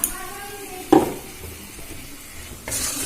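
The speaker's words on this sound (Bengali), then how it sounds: "দিয়ে আবারও ভালো করে নাড়াচাড়া করে ভেজে নেব।" A paste of ground cashews, tomato and green chili hits hot spiced oil in a pan for a Bengali rohu fish kalia: a sudden sizzling burst, then soft frying and stirring, with a second louder sizzle near the end.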